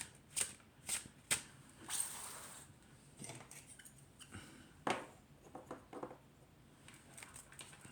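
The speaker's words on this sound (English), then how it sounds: "let's do a real shuffle" Oracle cards are shuffled close up: several quick riffling bursts at the start, followed by softer scattered card slaps and shuffles.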